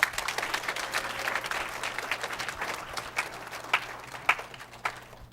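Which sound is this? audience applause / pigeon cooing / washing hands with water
audience applause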